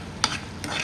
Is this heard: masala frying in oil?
yes